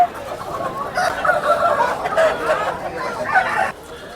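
Chickens clucking and cackling continuously at a busy village livestock market in Gokura, a dense chorus of many birds close by with occasional louder calls over crowd noise.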